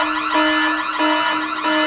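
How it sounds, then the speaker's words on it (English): Alarms blare in a guarded building's corridor, a loud wavering siren-like wail repeating in short cycles about every second and a half, continuous and alone. "Alarms start blaring."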